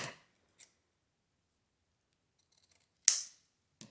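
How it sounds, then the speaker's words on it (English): Scissors cutting folded wired ribbon for a Valentine wreath, a few short crisp snips separated by silence, one louder sharp cut near the end, close and quiet with no voices. "Cut from the fold to the wired edge."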